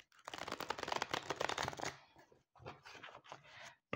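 Tarot cards are shuffled close up in a quick, dense riffle of papery flicks lasting about two seconds, then followed by a few softer, separate shuffles and taps in a quiet room.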